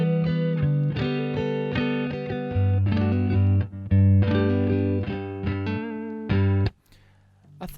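Clean electric guitar played through a Danelectro effects pedal: a run of distinct plucked notes and chords with a softened, slightly ringing tone, ending in a brief fading tail.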